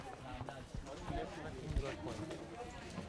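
Horses clip-clop along a dirt path in the hill station of Matheran, their hooves giving irregular close thuds under people chatting nearby.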